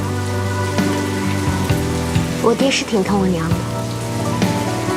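Steady rain falls throughout an outdoor scene of a Chinese period drama, a continuous background patter beneath music and someone speaking.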